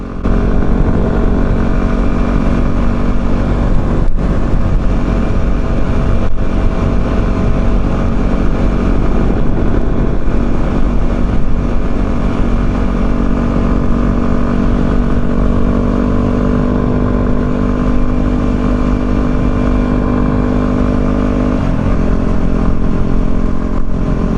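A Yamaha WR250R motorcycle rides along a short stretch of highway, giving a steady, loud engine drone mixed with heavy wind rush that stays constant throughout, with no talking.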